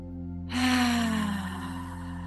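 A single slow exhale during guided meditation starts suddenly and fades gradually into soft breathy air over a low, steady musical drone.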